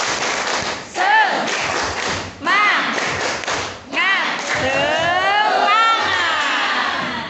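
Participants at a teacher training workshop perform a rhythmic group clap chant, with bursts of patterned clapping and loud voices shouting along between them in a lively indoor crowd.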